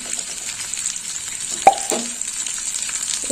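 Spices with turmeric sizzle in a pan during the making of aloo posto, a soft steady fry punctuated mid-way by a sharp clank and scrape of the spoon as it is stirred, no voices.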